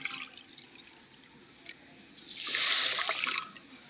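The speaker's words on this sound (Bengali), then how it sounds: "ওই বাটি মাপ করে এক বাটি জল দিয়ে দেবো" Water is poured from a bowl into a pan of sugar, a brief splashing gush rising after a few quiet clinks and drips, lasting about a second close by.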